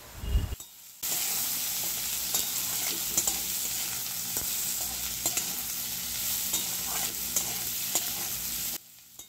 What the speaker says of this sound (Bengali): এবার ভালো করে মশলাটা কষিয়ে নেওয়া হচ্ছে